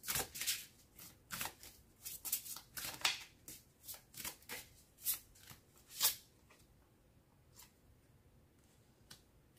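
Tarot cards are shuffled and laid down in a general reading, giving a run of crisp riffling and snapping card sounds in uneven bursts that thin out into a few soft taps, with no talk.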